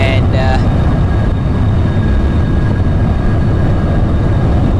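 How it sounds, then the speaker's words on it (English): Boeing 747 in the X-Plane 11 flight simulator rolling for takeoff on a runway, a loud, steady low engine roar with broadband rumble throughout, a brief tonal chime near the start. "We're just gonna take off on this runway"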